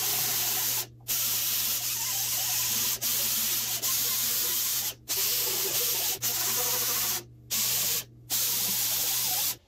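Sheet metal being sanded with an 80-grit disc on a power sander, a loud steady hissing grind close by, broken by several brief stops when the tool lifts off, with a low hum underneath and no speech.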